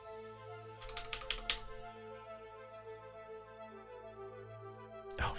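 Typing on a computer keyboard to sign in: a quick burst of a few key clicks early on, then a lone clack near the end, faint and close over a low steady hum.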